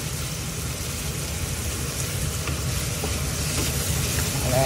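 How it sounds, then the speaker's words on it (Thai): Pork is stir-fried in a pan with fish sauce and sugar, making a steady, close sizzle with a busy scraping and stirring texture that grows a little louder toward the end, with no speech. "เดี๋ยวผัดหมูให้สุกสักนิดนะคะ"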